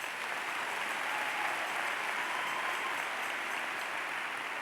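A church congregation claps in steady, dense applause throughout, a constant wash of many hands at moderate volume, with no voices standing out.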